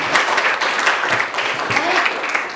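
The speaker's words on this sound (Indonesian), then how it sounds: "Kita beri tepuk tangan untuk" Students applaud in a classroom, a dense and continuous burst of clapping from a group, loud and close, with faint voices mixed in.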